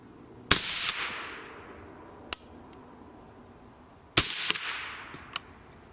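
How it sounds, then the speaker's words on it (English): Two sharp gunshots ring out about four seconds apart, each a loud crack with a short decaying tail, recorded outdoors during a range test of a Bering Optics Super Hogster laser rangefinder scope, with a few faint clicks between. "Two shots."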